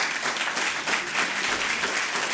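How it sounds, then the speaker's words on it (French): A hall audience breaks into steady, dense applause, many hands clapping together loudly and evenly throughout, with no voices standing out. "je voudrais que vous applaudissiez ceux qui ont accepté ce débat ce soir"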